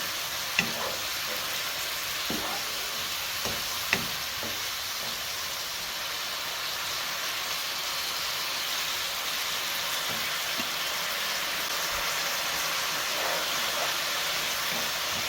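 A stir fry sizzles steadily in a pan turned up to its highest heat as meat juices cook off, a constant bright hiss with a few faint clinks of stirring and no talk.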